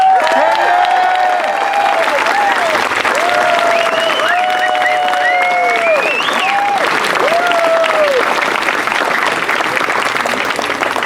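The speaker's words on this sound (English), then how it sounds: "Go ahead and give them a round of applause." Sustained applause from a large crowd at an elementary school graduation fills the space, steady and loud throughout, with scattered cheers and voices rising over the clapping.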